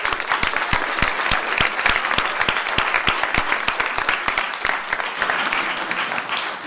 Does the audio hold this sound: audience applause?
yes